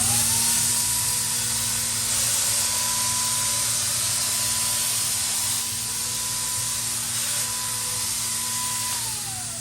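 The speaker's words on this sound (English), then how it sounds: "you just get paint whenever you pull the trigger" Airless paint sprayer coating a storage room ceiling, a loud continuous hiss with a steady motor hum running throughout, close and without talk.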